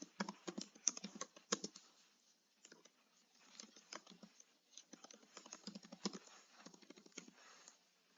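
Quiet, close keystrokes patter on a computer keyboard in irregular bursts, with short pauses between runs of typing.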